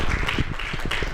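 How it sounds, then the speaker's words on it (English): Audience applause follows a call for a round of applause at a university religion debate, a dense, steady burst of clapping close by, continuous and fairly loud through the whole brief moment. "So I want to give them a quick round of applause."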